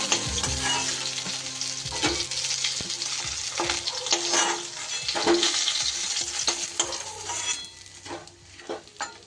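Pieces of lata (snakehead) fish fry in hot mustard oil in a pan, giving a steady close sizzle and crackle throughout with intermittent clinks and scrapes of a utensil against the pan, and no one speaking.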